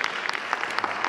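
An audience at a New Year television show applauds, a fairly faint, steady patter of many hands clapping throughout.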